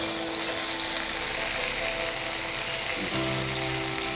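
Drumstick pieces fry in a pan, a steady close crackling sizzle that runs without a break, with a low hum from the stove shifting near the end.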